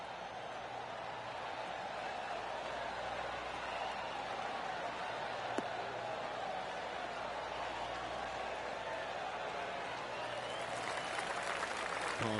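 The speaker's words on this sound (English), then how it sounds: "Oh, golf clap." Polite golf clap from a gallery crowd in the PGA Tour Championship video game, a soft steady patter of scattered applause that carries on evenly and swells slightly near the end.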